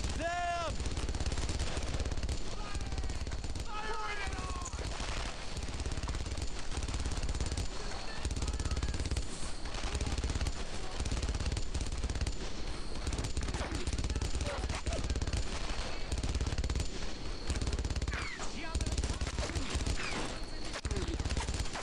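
Sustained machine gun fire in the World War II shooter Brothers in Arms: Earned in Blood, with loud, continuous automatic bursts and scattered shots running nonstop under occasional shouted voices.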